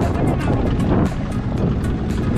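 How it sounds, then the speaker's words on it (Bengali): A boat hired at a ghat travels on a river in the Chatmohar and Bhangura area, making a loud, steady rumbling wash of water and wind buffeting, continuous throughout. "ঘাটের এখানে নৌকা রিজার্ভ করে যাচ্ছি"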